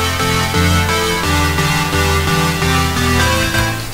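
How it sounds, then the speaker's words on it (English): A Trans-Stab synth lead built in the Synth1 plugin, in a progressive house style, plays alone: loud, steady sustained stabbed chords with rich low-register harmonics that change in a regular rhythm every half second, with no voices. "The extra synth I added to progressive alone sounds like"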